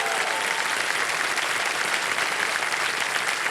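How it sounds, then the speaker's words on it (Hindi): Steady applause from a KBC studio audience fills the stretch, loud and continuous with no speech over it. "ताली बज जाए उनके लिए"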